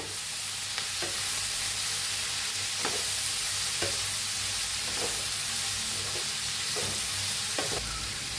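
Shredded cabbage and turmeric fry in a pan with a soft, steady sizzle, and a spoon scrapes and stirs at regular intervals roughly once a second, with no talking.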